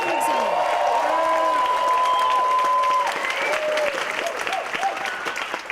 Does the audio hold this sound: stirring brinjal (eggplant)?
no